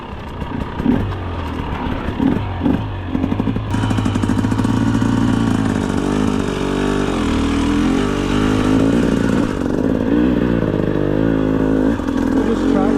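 A 2025 GasGas EC 300 GP dirt bike engine runs continuously during off-road riding, a loud, close, steady two-stroke drone with shifting pitch and revs throughout.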